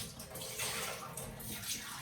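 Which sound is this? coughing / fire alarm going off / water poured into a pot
water poured into a pot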